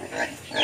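Pigs with diarrhea grunt in a pen, a brief pair of close, rough snorts.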